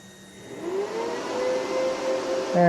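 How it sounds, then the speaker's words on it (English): Whirring fan in a DC power supply spinning up, a steady hum whose pitch rises smoothly and then holds, moderately quiet with a faint hiss behind it and no talking. "the fan in the DC power supply is kicked on"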